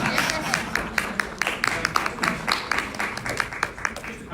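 An audience at a seminar breaks into applause, a dense, moderately close patter of many hands clapping throughout, with a voice faintly mixed in.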